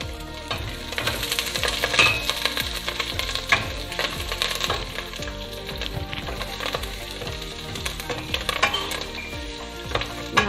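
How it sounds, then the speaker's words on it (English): Lemongrass stalks and curry leaves sauté in a hot pan for a Malaysian chicken curry, a loud continuous sizzle broken by frequent scraping and tapping stirs, close by, with no voices. "Now we saute them for 1 or 2 minutes."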